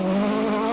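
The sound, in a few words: rally car driving through a water splash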